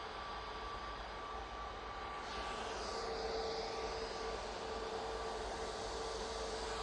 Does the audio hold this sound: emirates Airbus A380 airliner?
yes